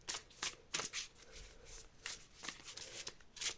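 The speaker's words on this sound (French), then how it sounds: "Je trouve qu'il se mélange bien, il est très agréable à mélanger." A deck of Black Violet Tarot cards is shuffled by hand in a quiet room, with soft repeated riffling bursts in a steady rhythm, faint and close up.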